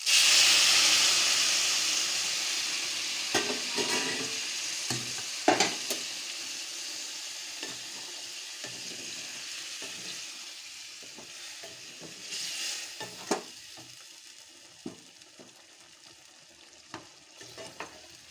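Fried potatoes hiss loudly in a pan as water goes in; the burst of steam fades into a steady sizzle, with scattered scraping knocks of stirring.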